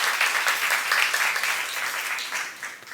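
A church youth-service congregation applauds in a brief, dense burst of clapping that holds steady for three seconds with no voices over it.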